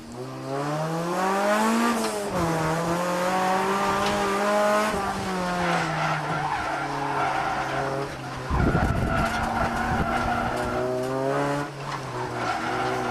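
Honda Prelude drifting a mountain road on worn front tyres, long tonal tyre squeals sliding up and down in pitch over a steady revving engine, loud and close, with a sharper scrubbing burst near the middle.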